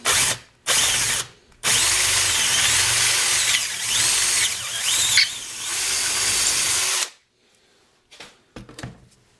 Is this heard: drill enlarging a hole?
yes